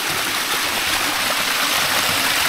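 A waterfall pouring into a cold, murky stream over unusually smooth rocks, a loud, steady rush of water with continuous gurgling and no talking.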